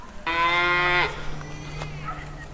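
A calf and cattle outdoors in the New Forest: one loud, close, drawn-out moo lasting under a second, followed by fainter lowing from other animals farther off.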